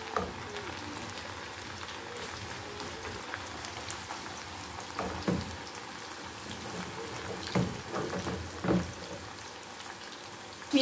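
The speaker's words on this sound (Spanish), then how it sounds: "se está friendo así. Un abundante aceite, así." Steady crackling sizzle of plantains frying in plenty of hot oil, close up, with occasional louder pops and faint speech underneath.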